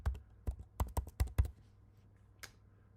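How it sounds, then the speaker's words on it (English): A run of about eight crisp keystrokes on a computer keyboard while a state name is entered into a campsite search site, close and fairly quiet, followed by near silence and one faint later click. "We'll type in our states."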